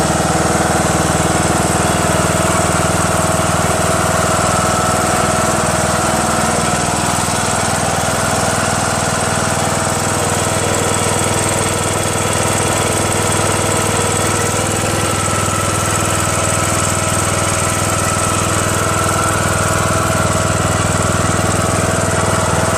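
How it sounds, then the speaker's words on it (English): A Craftsman LT2000 19.5 HP lawn tractor engine with a 42-inch deck runs steady and loud for the whole stretch, a close, unbroken mechanical drone with a knocking edge and no voices. "So I'm gonna start it now and see what happens."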